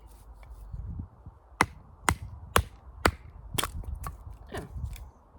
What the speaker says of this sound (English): I'm going to see if I can't batten some of these down.